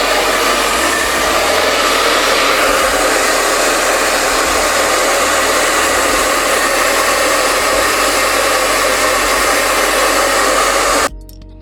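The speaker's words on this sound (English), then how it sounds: "And then we use our blow dryer in a cool setting." A hair dryer on its cool setting blows with a loud, steady whoosh for several seconds, then cuts off abruptly near the end.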